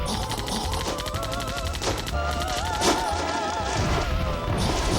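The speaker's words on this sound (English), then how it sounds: "You definitely want the heavy machine gun for that." Heavy machine gun firing in the Wii game Zombie Panic in Wonderland, a rapid continuous stream of shots over busy game effects and music, loud and dense throughout.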